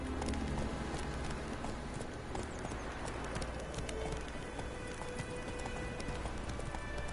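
Hooves clip-clop in a quick, continuous gallop as Roach the horse runs through The Witcher 3 game world, fairly quiet and unbroken by speech.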